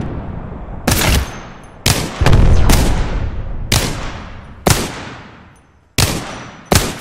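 Gunfire in the battle royale shooter Apex Legends rings out as loud, sharp shots and short bursts, about seven cracks at irregular intervals, each trailing off into a decaying echo.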